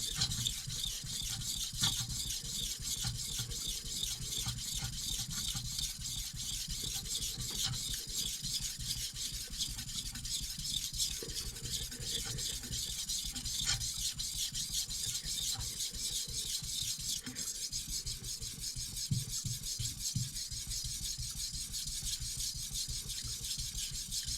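A knife blade pushed repeatedly across a whetstone, a fine continuous rasping scrape with even, rapid strokes, close and moderately quiet, carrying on throughout without speech.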